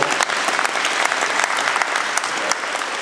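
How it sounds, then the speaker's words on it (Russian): A live investor meeting audience in Moscow's Sokolniki applauds steadily, a dense, even wash of many hands clapping close and loud throughout, with no break. "Давайте нам аплодируем ему."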